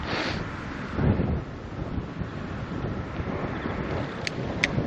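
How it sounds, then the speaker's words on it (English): Strong gusting wind buffets the microphone during an outdoor ride in Denmark, a loud, steady low rumble with a harder gust near one second and no talking. "Super windy."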